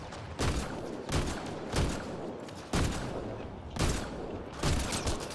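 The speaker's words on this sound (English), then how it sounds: "I gotta try my fancy new pistol out though" Pistol fire in the video game Mass Effect Andromeda: five sharp, booming shots spaced about a second apart, each with a short decaying tail, loud and alone.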